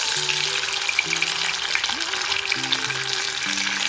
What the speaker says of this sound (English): It's frying really well.